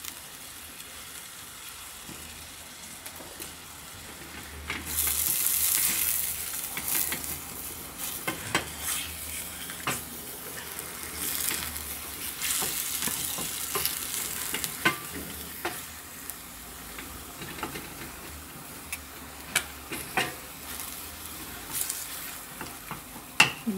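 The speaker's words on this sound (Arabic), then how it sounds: "نبدا نقليوه، ديروا شويه ملح." Minced meat sizzles steadily in a pan with a little salt, while a utensil stirs and scrapes against it in irregular strokes throughout. No one speaks.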